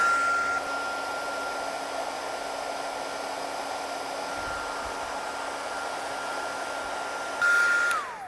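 A heat gun or hair dryer blows hot air onto a rubber mold that wax has stuck to. A steady, close, even whooshing drone runs the whole time, and its pitch shifts briefly near the end.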